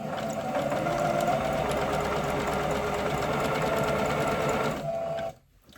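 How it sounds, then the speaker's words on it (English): A sewing machine stitches along the hem of a pair of leggings, a fast, steady mechanical whirring close by, running continuously before stopping abruptly near the end, with no talking. "we're just going to sew up to the end and then we're going to back stitch just a couple of stitches"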